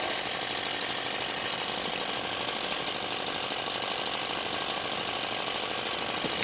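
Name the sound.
small engine of a model helicopter running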